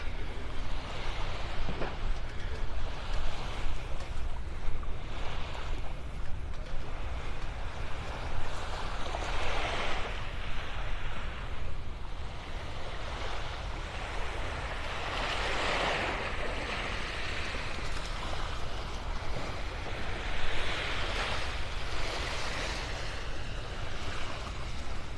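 Surf rolls steadily onto a beach in North Naples, Florida, a continuous wash of breaking waves with swells cresting every few seconds, with wind noise mixed in and no one talking.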